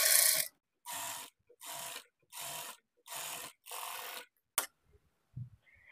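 A sewing machine stitches folded lining on a puff sleeve in six short, even bursts of whirring, close by. A few faint clicks follow, and no one speaks.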